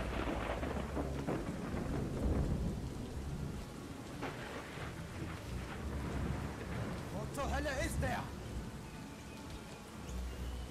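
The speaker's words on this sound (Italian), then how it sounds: "è stato un fulmine" Thunder from lightning during a rainstorm in the video game Red Glare, a deep rumble rolling under steady heavy rain, with brief higher chirping sounds later on.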